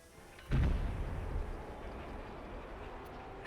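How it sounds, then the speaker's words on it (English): A Schwerer Gustav artillery salvo in Company of Heroes, one heavy, low boom that hits abruptly and decays into a long rumbling tail, with a second sharp onset at the very end. "Schwerer Gustav is firing at salvo"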